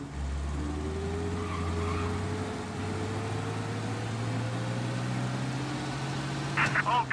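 Car speeding along in the Mafia Definitive Edition game, a steady loud engine drone running throughout, with a brief tire screech near the end; a voice talks over it.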